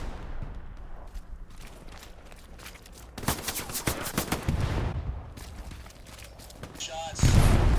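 Bursts of rapid gunfire crackle through the World War II game Hell Let Loose at Elsenborn Ridge, with scattered single shots, a dense volley in the middle and a heavy blast near the end.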